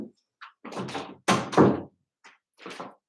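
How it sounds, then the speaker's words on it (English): A door is shut nearby with a dull thunk, among several short bumps and rustling noises, and no talking over it. "Just shut the door."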